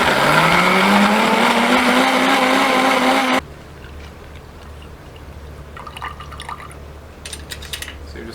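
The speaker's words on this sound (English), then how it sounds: "Very high-tech blender. There you go. Just blend it." A high-tech blender whirs loudly as it blends half a nutmeg fruit with a glass of water, its motor pitch rising steadily, then cuts off abruptly, leaving quiet room noise with light clinks.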